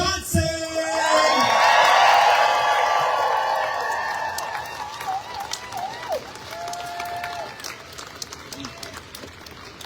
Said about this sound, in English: Please make so much noise for Riall Johnson!